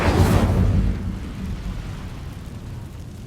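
A fire spell, Incendio, cast in Hogwarts Legacy bursts out as a short whooshing blast that fades into a low rumble over about a second, alone.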